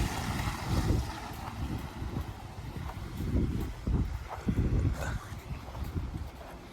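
Steady wind rumbles and buffets against the microphone outdoors, with gusty low thumps rising and falling throughout and no voices.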